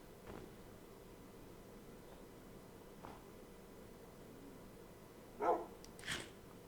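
Dog barks in Minecraft, two short sharp yaps near the end over a quiet, faintly hissing background, with a few soft clicks earlier.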